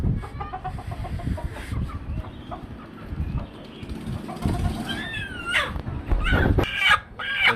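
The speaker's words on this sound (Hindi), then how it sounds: "ये वाली मुर्गी इसके करीब गई तो ये देखें कैसी चिल्ला रही है" Hens squawking and fighting in a pet house, with low clucking that builds to sharp rising shrieks and frantic calls near the end, close by and loud, with some background voices.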